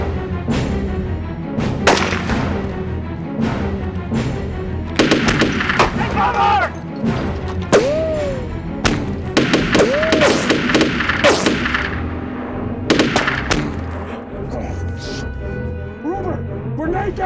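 Video game combat: bursts of rapid gunfire and sharp shots crackle continuously, with shouted voices over the shooting and echoing impacts.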